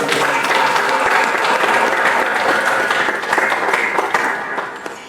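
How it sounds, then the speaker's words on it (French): An audience at an embassy reception for the Congolese diaspora applauds with dense, sustained clapping that holds steady for several seconds and thins slightly at the end. "Un petit peu d'applaudissements pour lui."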